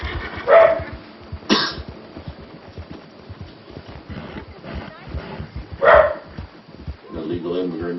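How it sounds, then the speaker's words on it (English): Wild dogs bark in a few sharp, scattered bursts on a frontier cavalry militia game scene, heard between and under characters' dialogue. "I can hear wild dogs."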